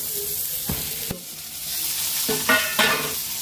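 Sweet corn kernels sizzle and fry in hot oil while a spoon stirs them in a pan, with close scraping strokes over a steady crackling sizzle and no voices.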